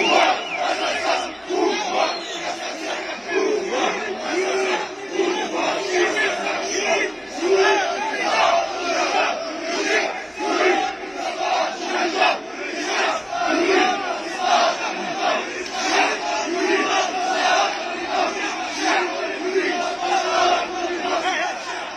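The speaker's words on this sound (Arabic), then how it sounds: "هتاف الشعب يريد إسقاط النظام كان مدويا اليوم في" A large street protest crowd in Algeria against a fifth presidential term, chanting rhythmic slogans against the regime in unison, a loud massed roar of voices pulsing steadily throughout.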